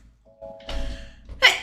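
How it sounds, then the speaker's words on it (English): A single close sneeze: a short wind-up sound, a breathy burst, then a sharp nasal exhale at the end. "I'm gonna sneeze."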